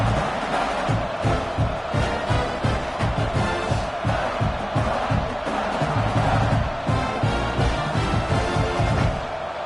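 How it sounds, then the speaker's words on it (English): Home crowd cheering in the college football video game EA CFB 26, a sustained stadium roar with rhythmic swells, heard under a commentator's voice. "And you just know the home crowd is loving this."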